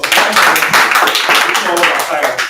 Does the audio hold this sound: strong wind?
no